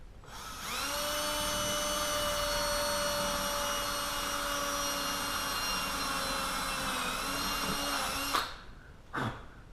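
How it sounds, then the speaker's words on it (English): A power drill whines at a steady high pitch for about eight seconds while drilling a hole in a 1973 Mustang coupe seat, then winds down, followed by a brief second pulse. "I'm going to drill a hole like we did the last one."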